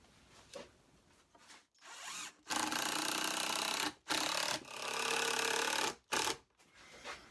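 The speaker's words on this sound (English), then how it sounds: "The safest place is on the bandsaw." Bandsaw cutting a wooden board for a Peterson-style bluebird nesting box: three loud, close bursts of steady power-tool whine with short quiet gaps between them, and no voices.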